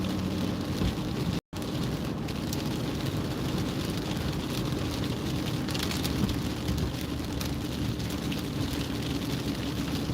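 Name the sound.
rain hitting a window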